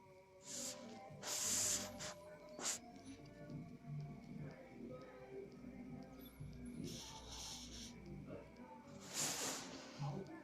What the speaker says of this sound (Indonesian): Kok kucing bisa ngorok ya?